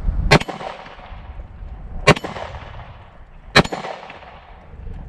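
Three sharp, loud shots from a 10mm S&W M&P pistol firing handloaded rounds at an MGM steel popper target, spaced about one and a half seconds apart, each with a quick ringing tail.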